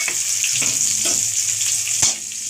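Chopped onion fries with whole cardamom, cloves, cinnamon, bay leaf and cumin, giving a bright, steady sizzle broken by a few scraping stirs and clicks of a spoon against the pan.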